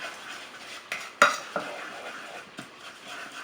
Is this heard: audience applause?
no